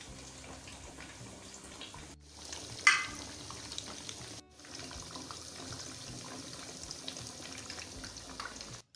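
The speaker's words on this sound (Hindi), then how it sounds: "और इतनी मज़े की फ्राई होने की आवाज़ आ रही थी" Fish frying in hot oil for a Lahori-style crispy fish fry, a soft steady sizzle and crackle with a brief louder pop and two short breaks in the sound.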